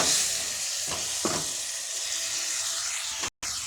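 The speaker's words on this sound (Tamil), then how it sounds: "நல்லா இப்படி வதக்கிக்கணும்." Onions and curry leaves sauté with rock salt in a pan for a parotta kurma, giving a steady close sizzle with a couple of brief stirring scrapes and a momentary cut near the end.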